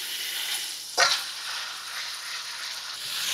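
Garlic, onion and minced meat sizzle in a pan, a continuous close frying hiss with a sharp brief crackle-burst near the start, no talking.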